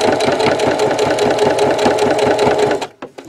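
A sewing machine stitching fabric in a sewing lesson, rapid steady mechanical clatter up close that runs continuously, then stops abruptly near the end followed by a few small clicks.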